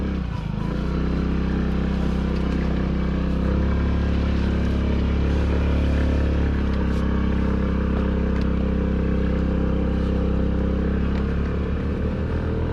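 A small 49cc scooter engine drones steadily and loudly while riding off-road, its pitch shifting as it climbs uphill and eases, with wind buffeting close to the microphone.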